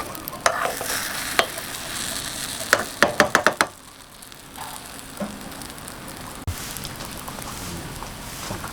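Cha-om omelette fries over low heat in a pan with a steady soft sizzle, broken by a quick cluster of sharp utensil taps and scrapes near the middle, close and clear with no talking.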